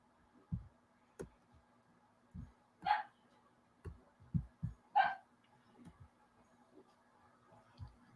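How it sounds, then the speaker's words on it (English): A dog barks twice at home, a few seconds apart. The barks are moderately loud and sound from a little distance, among scattered soft thumps and clicks, with no talking. "why is my dog barking?"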